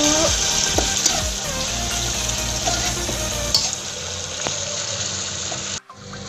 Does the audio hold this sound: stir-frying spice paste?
yes